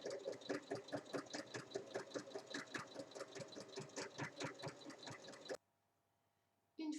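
A sewing machine runs a steady, rapid topstitch around a rectangular fabric basket with two handles, its fast stitching clatter continuing for over five seconds before stopping abruptly into near silence, then starting again briefly at the end.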